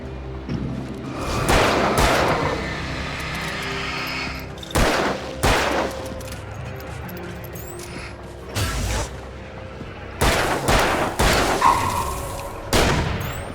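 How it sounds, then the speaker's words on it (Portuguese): Gunfire in the video game Alan Wake, an accidental shot followed by repeated loud bursts and booms spread across the stretch, with mechanical clatter between them and no talk. "ele ainda deu um tiro sem querer"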